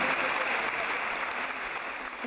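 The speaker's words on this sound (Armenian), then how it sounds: "Մենք բարձր ծափարենք մեզ և մեր տատիկին" An audience at a concert applauds steadily, a dense wash of clapping that holds at an even level throughout, with voices mixed into the noise.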